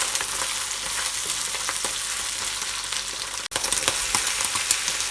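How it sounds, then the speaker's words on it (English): Garlic and shiitake mushrooms frying in a wok for Hakka-style red pork, a steady dense sizzle with frequent crackles and pops, close and loud throughout with one brief dip near the end. "And now add your garlic."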